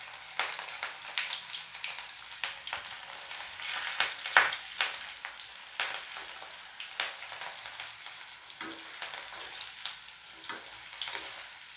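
Disco bhaji fritters, Solapur style, deep frying in a pan of hot oil, giving a continuous bubbling sizzle with frequent crackling pops and occasional clinks, close and moderately quiet.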